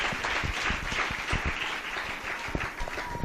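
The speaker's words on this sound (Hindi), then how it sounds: "जोरदार ताली मेरे प्रभु के लिए।" A church congregation applauds for the Lord during a prayer service, a moderate round of clapping with distinct hand claps over a softer background wash.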